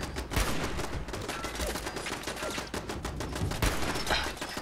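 Turret gunfire in Fallout 4, rapid bursts of automatic shots running continuously at moderate volume with scattered sharper cracks.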